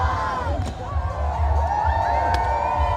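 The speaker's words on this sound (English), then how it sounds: "Look at the crowd." A festival crowd at a colour run cheers and whoops steadily, a loud, continuous wash of many voices with rising shouts and scattered yells throughout.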